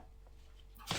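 A single sharp sneeze bursts out near the end of a quiet stretch, close and sudden after near-silence.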